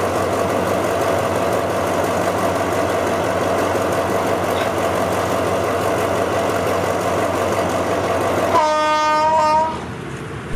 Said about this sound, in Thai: ไปแล้วค่ะขบวน 102พ่วงรถมาสิบคันเลยนะคะ